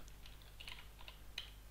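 Quiet computer keyboard typing, a handful of light irregular key clicks over a faint steady hum, with no one speaking.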